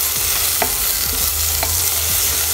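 Chopped onion sautéing in a hot oiled pan for sinigang with pink salmon belly: a steady close hiss with a few soft spoon-against-pan taps, and no voices.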